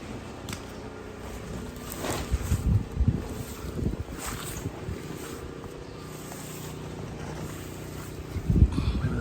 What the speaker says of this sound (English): the wind is still gusting really bad